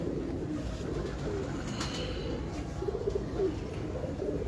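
Pigeons coo softly in a few short low murmurs against a constant noisy background, with no talk.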